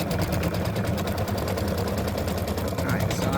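Embroidery machine stitching the body of a freestanding-lace Halloween spider, a loud, dense, steady mechanical chatter with a fast repeating needle rhythm throughout the short stretch.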